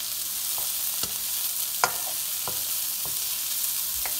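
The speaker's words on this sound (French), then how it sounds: "Hop, je vais touiller un coup." Rabbit pieces simmer in cider in a pan, a constant soft sizzle with several distinct scrapes and clinks as the contents are stirred at irregular intervals.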